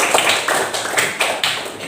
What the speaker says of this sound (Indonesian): tepuk tangan untuk Mas Kalis.